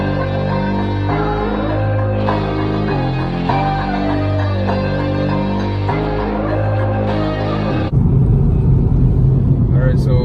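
A 2008 Honda Civic FD2 Type R on front coilovers drives with a steady engine drone that rises and falls through gear changes, close and loud, then shifts into rougher road and wind rumble near the end.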